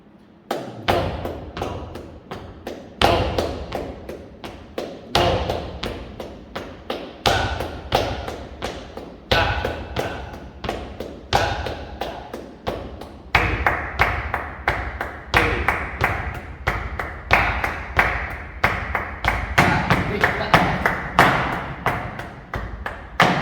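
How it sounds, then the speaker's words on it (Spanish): Flamenco palmas por bulerías: steady, crisp hand claps in a quick, even rhythm with every second clap accented, close and loud throughout with no talking. "Estoy acentuando cada 2 palmas, cada 2 tiempos."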